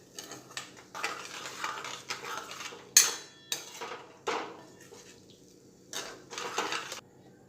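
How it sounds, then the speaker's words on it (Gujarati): Boiled vegetables are stirred with water in a pan for pav bhaji, with repeated metallic scrapes and clinks of a spoon against the pan coming in short bursts separated by brief pauses. "હવે આપણે જે શાકભાજી બાફીને રાખેલા એ આપણે પાણીમાં સાથે જ એડ કરી દઈશું. જરૂર પડશે તો આપણે પાણી એડ કરીશું. બધું સરસ મિક્સ કરી લઈશું."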